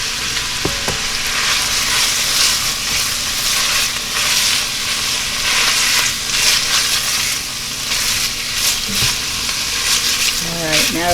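Smoked ham sizzling and frying in a Le Creuset cast iron Dutch oven among other ingredients, a loud steady crackling hiss with occasional stirring scrapes, close up and continuous.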